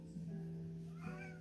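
A house cat meows in a room, a clear pitched call that rises and falls over about a second and a half, heard alone against a steady low hum.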